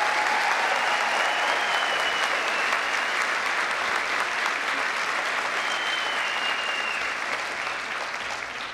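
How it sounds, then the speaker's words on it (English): A large convocation audience claps steadily and loudly in a dense, even wash of applause that lasts throughout and fades slightly toward the end. "Let's give all of them a round of applause"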